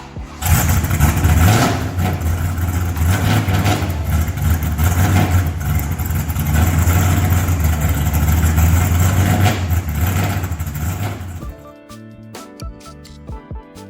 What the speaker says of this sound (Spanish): El GT350R es magia pura cuando escuchas el sonido de su motor V8 de la era dorada de los muscle cars